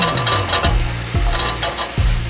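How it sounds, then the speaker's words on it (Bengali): Peas and potatoes sauté in a pan, a loud, close sizzle with rhythmic scraping strokes of a spatula stirring them together. "আমি আলুর সাথে মটরশুঁটিটা একটু কষিয়ে নিচ্ছি"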